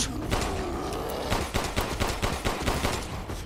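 Rapid gunfire in the horror game Resident Evil Village played in VR, a loud, dense volley of shots nearly emptying a magazine, continuous and close, with short bursts toward the end.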